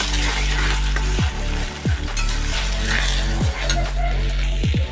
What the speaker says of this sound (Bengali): এখন আমি ওই যে কড়াইয়ের মধ্যে যে তেলটা আছে এর মধ্যে আমি ডিম দিয়ে দেবো।